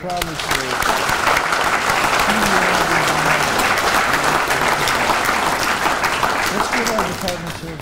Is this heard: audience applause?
yes